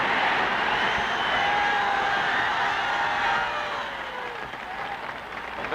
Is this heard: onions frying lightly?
no